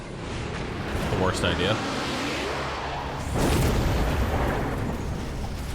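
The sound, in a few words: missile explosions in video game Mechabellum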